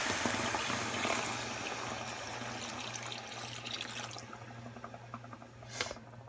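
Water pours steadily into a pan of chicken, a close, continuous hissing splash that fades toward the end and is followed by a brief clink.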